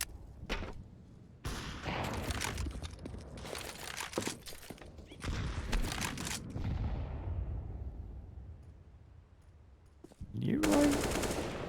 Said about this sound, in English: Trying to get the kills with the M249